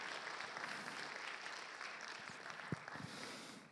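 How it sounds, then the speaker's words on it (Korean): An audience applauding in thanks during a chapel service at a theological university: a steady, faint wash of many hands clapping from a distance, with a few louder individual claps near the end. "우리 이분들에게도 박수로 우리 감사함을 표했으면 좋겠습니다"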